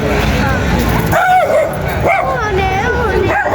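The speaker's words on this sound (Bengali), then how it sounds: "এই দেশে ডগির অভাব নাই শুধু ডগি পালে সবাই" A dog barks and yips nearby in a few short bursts, with a whimpering edge, mixed with people talking and faint car noise in the background.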